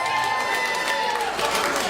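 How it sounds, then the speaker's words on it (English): At a 1920s-style burlesque speakeasy show, the crowd applauds and cheers for a bachelorette called up on stage, a brief burst of clapping mixed with whoops and crowd noise. "Let's give her a round of applause."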